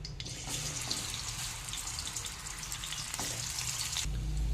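Small bommidi fish fry in oil in a pan, a steady hiss and crackle that stays close and even throughout, with a brief low thud near the end.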